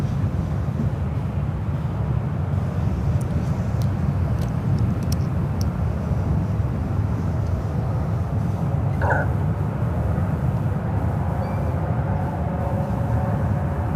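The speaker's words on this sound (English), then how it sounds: "First flight heading to Denver, 737-700." Boeing 737-700 airliner departing San Francisco airport for Denver, a steady broad jet roar from a distance holding constant throughout, with faint bird chirps in the background.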